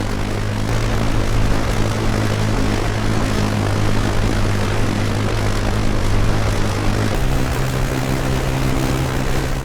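Steady, loud propeller drone of a military surveillance plane in flight in the ARMA 3 game, a continuous low hum with constant tone and a slight pitch shift late on, with no talk.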